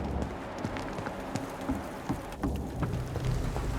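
Steady rain pours in the gothic video game Vampyr, a dense hiss of drops on surfaces with scattered sharper patters and a low rumble underneath, continuous and moderately quiet.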